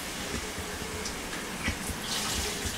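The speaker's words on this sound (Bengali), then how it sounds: "কলের নিচে থেকে নিতে হচ্ছে পানি" Water runs from a kitchen tap in a steady, close hiss with small splashy fluctuations, continuous throughout without talk.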